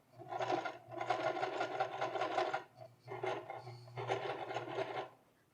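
A sewing machine stitches a straight seam on high-waisted pleated pants in two steady bursts, the first longer, with a short pause between and a clear stop at the end.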